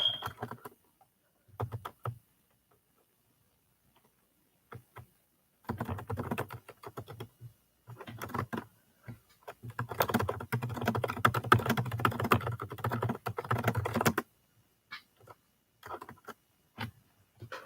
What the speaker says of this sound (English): I'm just typing up